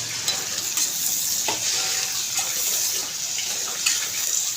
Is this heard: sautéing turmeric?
yes